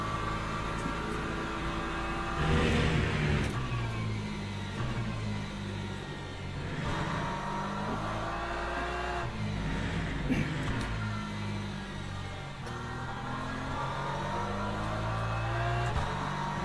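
Race cars in the Le Mans Ultimate sim racing game accelerate and rev through the gears in a WEC-style championship race, with repeated rising engine sweeps overlapping in a steady loud stream.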